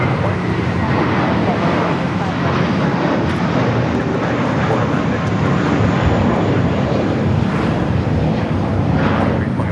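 A Japan Airlines airliner taxis at LAX, its steady, loud jet engine whine and rumble running continuously and fairly close, with some talk faintly mixed in.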